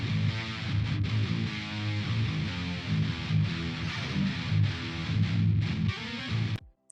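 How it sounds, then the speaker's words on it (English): Heavily distorted djent guitars in a drum and bass production grind out dense, chugging low riffs over steady drums, loud and compressed, stopping abruptly at the end. "This is what the guitars sound like."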